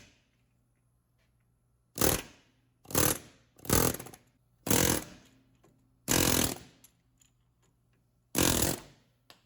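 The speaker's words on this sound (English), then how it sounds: "my favorite way, and typically it's the fastest way, is to use an air hammer." An air hammer removes the upper control arm bushing on a Jeep Cherokee XJ in six loud, separate bursts of rattling impacts, each about half a second long, with quiet gaps between them.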